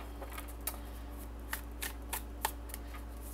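Tarot cards being shuffled produce a series of soft, quick riffling snaps at irregular intervals over a steady low hum.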